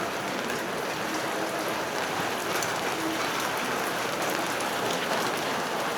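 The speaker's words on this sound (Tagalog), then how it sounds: "Yung ulan ni Hina, lalakas." Heavy monsoon rain in a windy Divisoria market in Manila pours down steadily, a dense, even hiss of drops on surfaces all around with no voices.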